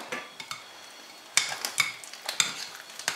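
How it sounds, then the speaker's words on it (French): A spoon stirs cider vinegar in a bowl, giving a series of close, light clinks and scrapes at an uneven rhythm, with no talk. "Et je vais bien mélanger."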